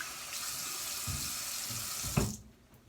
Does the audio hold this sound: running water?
yes